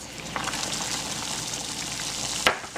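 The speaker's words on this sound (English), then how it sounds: "We have our water boiling." Steady bubbling and hissing of a pot of water at a rolling boil for fresh pasta, fairly close, with a brief clink near the end.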